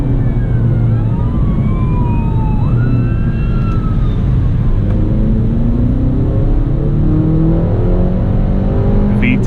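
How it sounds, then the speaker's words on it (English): A 2017 Acura ILX with a naturally aspirated VTEC engine revs hard. The engine makes a loud, constant roar heard from close by, with rising and falling tonal whines running over it. "especially since this is a naturally aspirated engine, it really encourages you to rev it all the way up to the red line"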